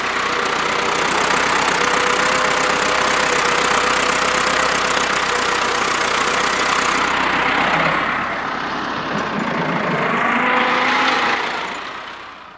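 A tractor engine runs loudly and steadily nearby on a road, rumbling throughout, then its tone shifts and fades slightly near the end.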